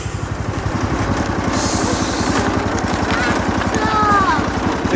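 The engine of a little red tractor runs nearby with a fast, steady low chugging rhythm, loud and continuous throughout.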